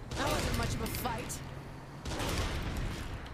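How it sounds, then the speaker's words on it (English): Rapid gunfire from Saints Row: The Third, a sustained loud barrage of shots filling the moment, mixed with a voice talking over it. "Indiscriminate shooting!"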